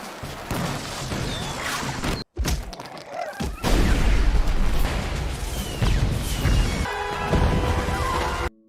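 Firecracker blasts in an animated ant battle, black ants attacking red ants: a dense, loud barrage of booms and crackling bursts with a brief cutout, then heavy rumbling explosions and a faint tonal tail.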